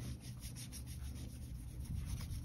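A magic sponge rubs back and forth across a marker-written letter, giving a steady, continuous scrubbing rasp close by, with no talk.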